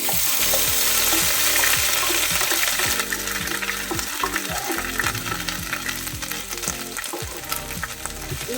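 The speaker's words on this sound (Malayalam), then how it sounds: "ഇഞ്ചി നന്നായിട്ട് വഴറ്റിയെടുക്കാം. ഒരു ഗോൾഡൻ ബ്രൗൺ കളർ ആവുന്നത് വരെ നന്നായിട്ടൊന്ന് വഴറ്റിയെടുക്കണം." Ginger sautéing in a pan for puli inji, a Kerala tamarind-ginger curry: a loud continuous sizzle with repeated scraping and stirring strokes of a spoon against the pan, heard alone without talk.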